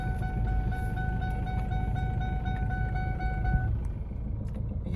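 An 18-year-old Ford Mondeo idles parked on a slant, its exhaust giving a steady low rumble with faint intermittent knocking, continuous and fairly close, with no talk over it.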